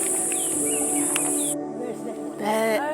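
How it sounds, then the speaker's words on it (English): A honeyguide calls in the bush of Zambia's Lower Zambezi, short chirping notes over a steady high insect drone that cuts off midway, with a brief burst of voices near the end. "That bird is called honey. What's it called? Honey guide."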